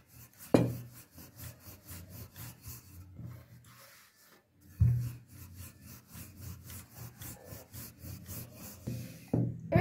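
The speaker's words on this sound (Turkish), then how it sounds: "Merdane ile güzelce açıyoruz." A wooden rolling pin rolls out yeasted dough for layered katmer börek on a floured surface. Soft rhythmic rubbing strokes come in short bursts with brief pauses and a few light knocks, and no voice is heard.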